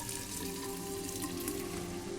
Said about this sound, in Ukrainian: О, давайте наповнимо казан.